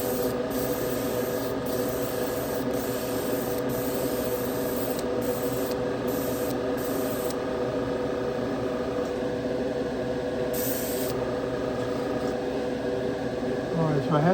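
Spray gun applying paint to the hood of a 1956 Chevy Gasser, a steady loud hiss of atomized spray running continuously with slight fluctuations throughout, with a constant mechanical hum underneath.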